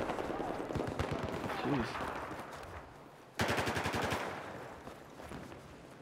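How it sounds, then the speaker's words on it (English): G36C rifle firing full auto in Battlefield 4 on the Sunken Dragon Conquest map, two rapid bursts of gunfire, the second sharp and loud, with a brief spoken exclamation. "I tend to fire this G36 in full auto a lot"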